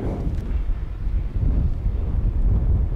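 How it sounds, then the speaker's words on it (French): Mistral wind buffets the microphone outdoors in the park at LUMA Arles, a loud, continuous low rumble with gusty surges and no voices. "Mais là on sent bien le Mistral"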